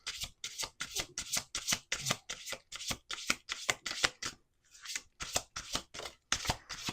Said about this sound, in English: I'm just gonna pull a few cards from each deck.